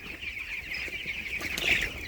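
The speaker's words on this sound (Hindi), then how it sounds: "ये रहा चिक्स" Chicks on a poultry farm make a continuous chorus of high peeping and chirping, fairly faint, with a few brief flutters and a slightly louder burst near the end.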